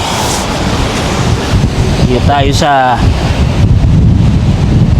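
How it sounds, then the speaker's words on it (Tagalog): Sea waves at Bagats Beach roll and wash steadily beneath strong microphone wind rumble, loud and close throughout, while a person speaks briefly in the middle. "Yan, dagat na po ito mga kaagapay. Ayun, may alon-alon pa."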